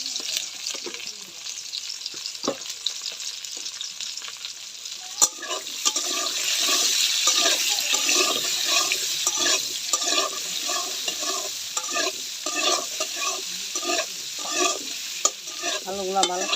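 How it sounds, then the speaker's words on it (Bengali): Potatoes for a vegetarian aloo dum fry in a pan while being stirred, a steady close sizzle with scraping and clattering stirring sounds that grows busier after the first few seconds, with no talking. "আলুগুলা ভালো করে ভেজে নিব।"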